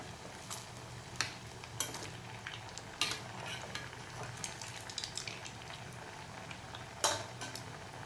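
A spoon turns frying sooji snacks in hot oil, with scattered clinks and scrapes against the pan over a soft, steady frying hiss at a moderate distance.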